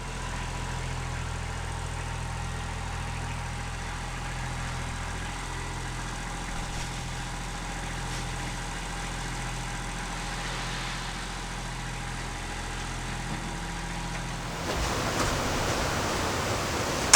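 A tractor engine runs steadily while moving stone at an off-grid earthbag building site. It makes a continuous low drone for most of the stretch, then the sound grows harsher and rougher near the end, with no talking.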